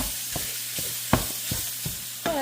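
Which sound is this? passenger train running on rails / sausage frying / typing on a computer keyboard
sausage frying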